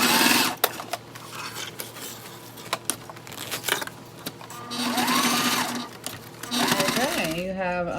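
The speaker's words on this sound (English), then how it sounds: "we're gonna go ahead and sew that down at 1/8 of an inch" Sewing machine stitching fabric panels for a waist bag, a close mechanical whir in short bursts and longer runs, with a voice talking in between.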